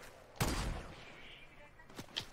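Gunfire from a Fortnite Chapter 2 fight comes as a burst of shots followed by a couple of quicker, sharper cracks, moderately loud against a quiet background.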